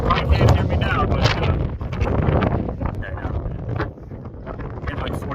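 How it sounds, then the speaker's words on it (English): Heavy, roaring 40-mile-an-hour wind gusts on a mountain top buffet the microphone continuously, rumbling and gusting loudly throughout. "getting like 40-mile-an-hour gusts"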